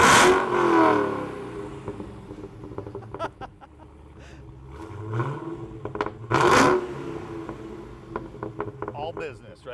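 A 2015 Dodge Challenger SRT Hellcat engine revving nearby, rising and falling in loud surges with a deep rumbling idle between, while people talk over it.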